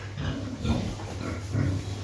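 A large sow of about 180 kg grunts in short, low, rough snorts at close range during artificial insemination on a farm, continuous over a faint background hum.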